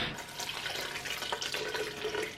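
Water pours from a cup into a blender jar during home cooking, a steady close splashing and trickling stream that lasts the whole short moment with no talking.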